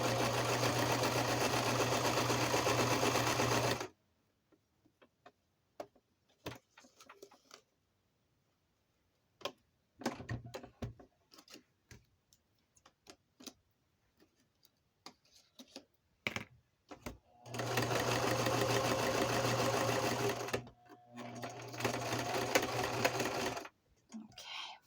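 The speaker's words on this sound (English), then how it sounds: "my sewing machine is wobbly." A wobbly sewing machine, sitting half on a mat, runs in fast steady bursts of stitching, pausing between runs, with scattered clicks, taps and handling noises in the gaps.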